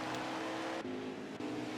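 Virtual racing truck number 83 in a playoff race on the Roval, its engine howling steadily at high revs with two brief dips like gear shifts, fairly close and sustained.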